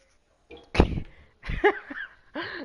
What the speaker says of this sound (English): Hey, why you sneezing like that?